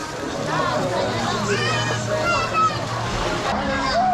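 Water splashes and sloshes steadily as a family bathes together outdoors, with children's voices and other people talking over the continuous wet churning.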